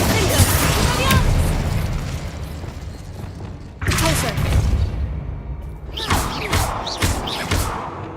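Spell blasts from the Hogwarts Legacy video game burst in several heavy booms and thuds, each impact followed by crackling decay, with a voice shouting between them.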